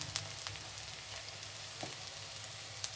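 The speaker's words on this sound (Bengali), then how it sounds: "রসুন বাটা দিয়ে দিচ্ছি।" Garlic paste sizzling in hot oil in a kadai for a spinach and puti fish dish, a soft steady fry with a few faint pops and crackles, close by and alone.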